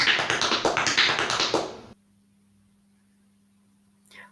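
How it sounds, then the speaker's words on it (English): Tap shoes striking a hard floor in a paddle and roll step, a rapid, even run of crisp metallic taps for about two seconds, then silence and one last faint scrape. "I will show you how to do the paddle and roll"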